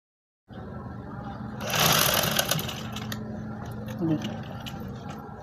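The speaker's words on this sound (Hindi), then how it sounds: "ये देखें किस तरीके से मैं इसके ऊपर रख के और टाँकी लगा रही हूँ।" A sewing machine stitches an elastic waistband onto a trouser, running with a steady close mechanical whir that swells partway through, while someone talks over it.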